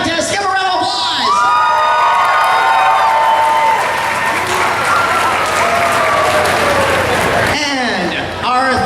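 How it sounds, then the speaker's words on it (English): A comic convention crowd applauds and cheers loudly for costume contest finalists, with whoops and children shouting mixed into the sustained clapping, and voices sounding over it near the start and end. "Give a round of applause."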